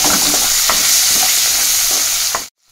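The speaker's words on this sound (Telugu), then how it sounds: "దాంట్లోకి మనం కట్ చేసి పెట్టుకున్న ఆనియన్ వేసుకోవాలి, కలిపేసుకోవాలి." Chopped onion stirred into ginger garlic paste in a hot pan: a loud, continuous sizzle with a few soft stirring scrapes, cutting off abruptly to silence just before the end.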